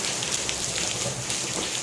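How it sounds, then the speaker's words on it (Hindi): Heavy rain pours down at an open street market in Bhubaneswar, Odisha, a dense, loud, unbroken hiss of drops on surfaces that fills the whole moment without any speech. "बारिश बहुत ज़ोर से आ रही है, आवाज़ नहीं आएगी।"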